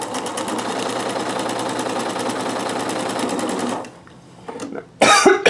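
Sewing machine stitching ribbon, a loud, steady, fast mechanical whirr running for nearly four seconds before stopping; a cough and a short bit of rustling follow.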